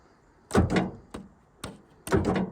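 Several sharp mechanical clunks of a 1983 Chevy Camaro Z28's door locks snapping come in quick pairs and singles, close by and fairly loud.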